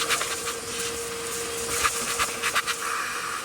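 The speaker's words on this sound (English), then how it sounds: "come in here and vacuum all the dirt and stuff out from here and here" A shop vac sucks dirt out of a pickup truck interior, a steady airy whoosh with a thin hum, broken by scraping and rattling as debris is pulled in, close and fairly loud.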